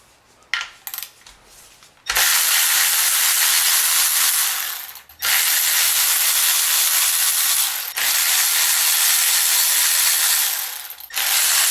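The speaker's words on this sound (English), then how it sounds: "we're going to go ahead and loosen all of these 10mm nuts" A ratchet loosens 10mm nuts holding the Vanos unit to the cylinder head of a BMW M52 engine. It gives a few light clicks, then three long, loud, rapid ratchet runs separated by short pauses.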